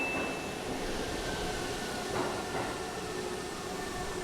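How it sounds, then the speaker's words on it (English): A Shibayama Railway train idling at a station, a steady, fairly quiet rumble and hum with a faint high tone running throughout, no voices over it. "This is it. This is the train."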